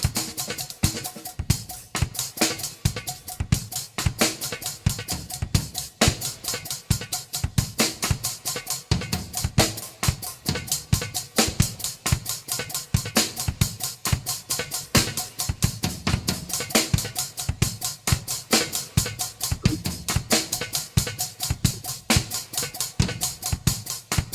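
A drum kit plays a dense cross rhythm of 18 against 4, hands and feet at the same speed, with rapid continuous strokes and regular accented low thumps throughout, loud and close.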